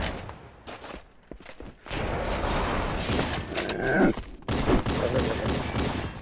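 Pistol gunfire in Halo: Combat Evolved on Legendary difficulty: a run of sharp shots that come close together, some clustered in quick bursts, over game noise and footsteps.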